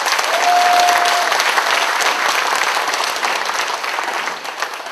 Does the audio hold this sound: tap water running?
no